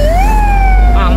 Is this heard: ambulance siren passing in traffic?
yes